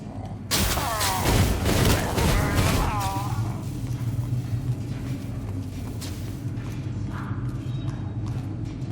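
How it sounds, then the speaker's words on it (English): A missile blast fires in the video game Warhammer Chaosbane: a loud booming burst opens with a rumbling, crackling impact, then fades into steady low game ambience. "I just have to blast you with my missile."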